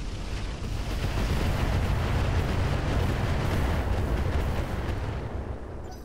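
A mech firing on an enemy in the Roguetech video game, a sustained roaring barrage of heavy weapon fire lasting several seconds, loud and continuous with no talking.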